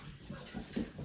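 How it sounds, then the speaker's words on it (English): A Yorkie puppy whimpers in soft, short whines and yelps, fairly quiet and close, with faint movement around it. "As you see, I got the puppies running around."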